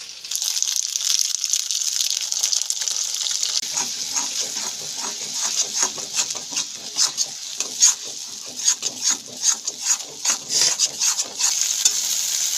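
Blended tomato paste hits a spice paste frying in oil for a potato curry, giving a loud, steady sizzle with a broad hiss. Rhythmic stirring and scraping strokes come through it, growing more distinct toward the end.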